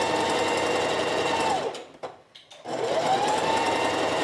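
A sewing machine runs steadily as it back-stitches along an invisible zipper using a zipper foot, stopping briefly for a short pause before the motor whirs up again and continues loud and close.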